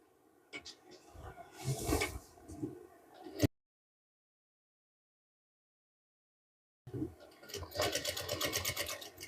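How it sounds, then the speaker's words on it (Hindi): A sewing machine stitches the placket on a men's kurta with a fast, rattling whir in two bursts, separated by a few seconds of complete silence. "सीधा रखने के बाद आपको क्या करना है, यहाँ पर सिलाई को लगाना है इस तरह से।"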